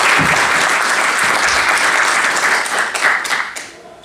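Audience applause at a book launch on Gupta Empire treasures, a loud, dense wash of many hands clapping that holds steady, then thins and fades near the end.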